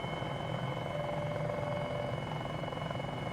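An MD500E helicopter in Microsoft Flight Simulator 2020 settles onto a sandbar near Queenstown, its steady turbine whine and rotor drone holding constant and loud, with no voices.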